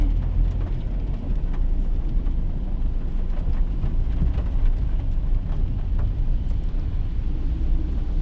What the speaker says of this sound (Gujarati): વરસાદ ના રોકે